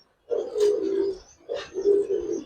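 Giribaz pigeons at a farm cooing in two low, throaty bursts, close and clear with a short pause between calls.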